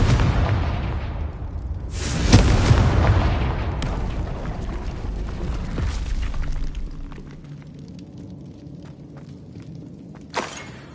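Confringo blasting spell in the video game Hogwarts Legacy erupts in a loud, heavy boom and crackling burst, then rumbles and fades into scattered debris clatter and a final sharp impact.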